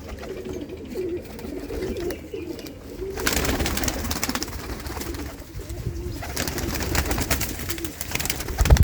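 Pigeons coo in low, soft murmurs amid rustling and shuffling noise in a pigeon loft, with a louder stretch of commotion partway through.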